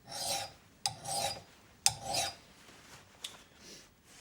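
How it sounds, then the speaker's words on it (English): A hand file dragged across an axe blade to sharpen it makes three or four long, gritty rasping strokes at a slow, steady pace. It is close and moderately loud, with no one talking. "you want to get your file and you want to press on the blade like this, and you want to just rub it across just like this."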